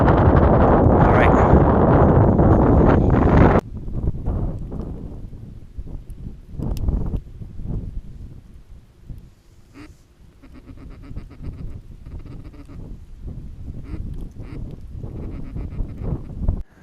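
Strong wind buffets the open marsh during a mallard duck hunt, a loud roaring gust for the first few seconds that then drops to a lower, uneven rumble of wind with occasional rustling.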